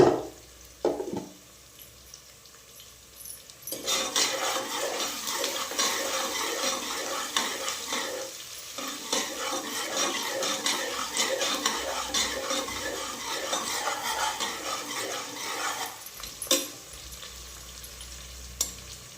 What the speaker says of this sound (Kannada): ಆಗಲೇ ಫ್ರೈ ಆಗ್ತಾ ಇದೆ ನೋಡಿ.